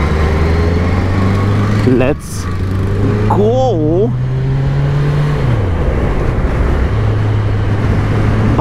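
Kawasaki Ninja 1000 motorcycle engine with an aftermarket exhaust, idling loudly up close and then blipped in a couple of quick, sharp revs that rise and fall, with someone speaking briefly over it.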